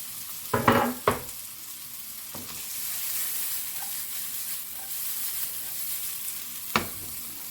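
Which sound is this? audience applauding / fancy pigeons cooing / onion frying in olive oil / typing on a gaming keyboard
onion frying in olive oil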